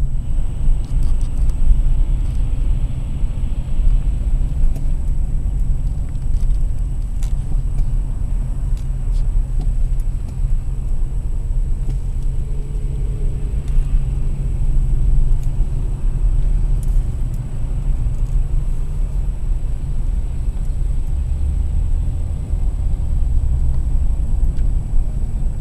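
Road traffic of cars and 18-wheeler trucks, heard as a steady, loud low rumble of engines and tires that holds for the whole stretch without breaks or distinct passes.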